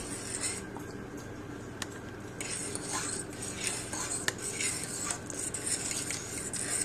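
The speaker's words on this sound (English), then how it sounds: "So I'm just going to stir that around." Brown rice with spices is stirred in a pot, giving a continuous soft scraping and rubbing with occasional metallic spoon taps against the pot, steady and close.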